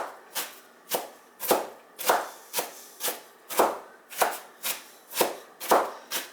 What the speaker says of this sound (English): And I just chop it up. I don't worry about it being like super fine. I just chop it up like that.